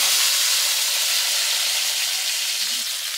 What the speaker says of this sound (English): Been frying there for a while,